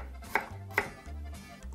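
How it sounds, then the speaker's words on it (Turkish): Potatoes cut into large chunks on a board in a home kitchen, two sharp knife chops followed by softer scraping, close and quiet with no talking. "Patateslerim birazcık iri doğrayacağım."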